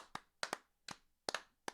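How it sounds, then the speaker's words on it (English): A few sharp hand claps in an uneven rhythm, close by and fairly quiet, like one person clapping briefly rather than a crowd, during a livestream. "Round of applause."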